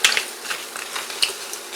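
A Tefal induction hob running during cooking, with a faint mechanical whir and small clicking, ratchet-like ticks near the hob, quiet and irregular over a short stretch.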